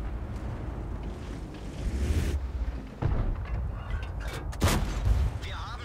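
Tank cannons fire in World of Tanks around a T26E5 Patriot: several heavy booms land over a few seconds against a steady rumbling background, each one a sharp, loud crack with a rolling tail.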